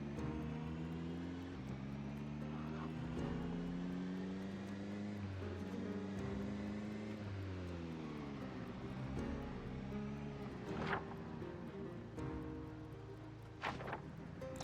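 Car driving in the zombie survival game Project Zomboid, its engine running as a steady low hum that shifts pitch with speed changes, with a few brief clunks near the end.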